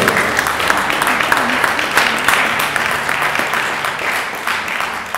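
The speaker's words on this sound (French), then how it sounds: "Vous pouvez applaudir Gabriel et Yannick." A crowd claps steadily and loudly throughout, a dense, continuous round of applause.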